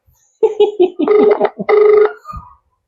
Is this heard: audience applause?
no